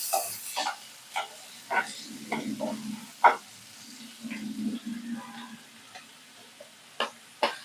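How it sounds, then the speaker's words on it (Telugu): Onion pieces fry in oil in a kadai for a yam and dry fish curry, a soft, uneven sizzle punctuated by repeated clinks and scrapes of a ladle stirring, close and moderately quiet. "గోల్డెన్ బ్రౌన్ కలర్ వచ్చేంత వరకు వేగనివ్వాలి."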